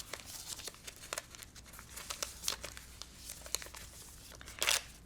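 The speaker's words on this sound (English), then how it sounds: "And then I'm going to pull the paper off." Paper foundation being torn and pulled off sewn quilt blocks, a series of quiet crinkling rips and rustles in irregular bursts, one louder tear near the end, no talking.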